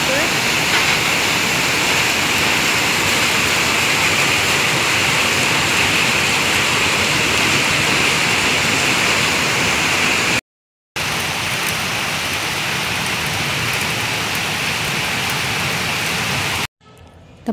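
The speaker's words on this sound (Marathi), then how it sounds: "जोरदार पाऊस पडतो आहे." Heavy afternoon monsoon rain pours steadily as a dense, continuous hiss, loud and close, broken by two brief dropouts, with no talking over it.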